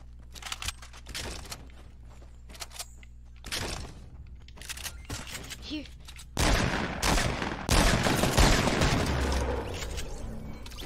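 Rapid SMG gunfire in a video game, bursts of shots at first, then heavy sustained firing and booms in the second half, with players talking over the action.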